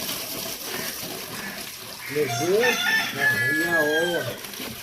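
Chickens cluck and a rooster gives a wavering crow over a noisy outdoor background, loudest in the second half.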